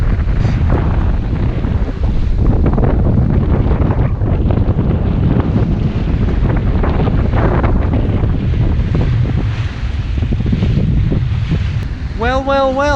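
A Hallberg-Rassy 54 sailing yacht moves under sail on a beam wind, with strong wind buffeting the microphone and water rushing along the hull in a continuous loud wash; a voice speaks briefly near the end.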